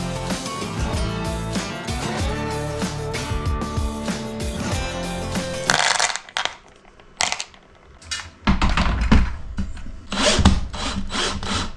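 A drill drives self-tapping screws into 4.2 mm holes in aluminium sheet, cutting M5 threads: a sustained loud grinding whir that then breaks into several short bursts with pauses between them.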